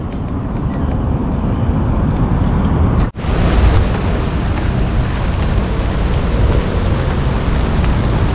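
Steady heavy rain roaring close by near a river in the late afternoon, a dense continuous wash of noise with a brief dip partway through.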